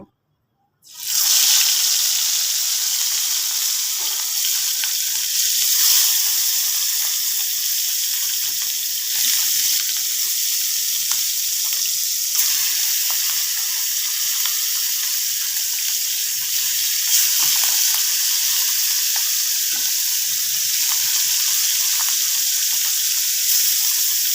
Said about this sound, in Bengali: তারপরে আস্তে আস্তে মাছগুলো দিয়ে দেব।